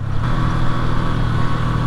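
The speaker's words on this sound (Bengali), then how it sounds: "ইঞ্জিন ব্রেক করছি একদম ইঞ্জিন পুরা মারাত্মক" A motorcycle engine brakes on a steep downhill road during a bike tour from Rangamati to Bandarban, with a loud, steady mechanical drone close to the rider and no speech.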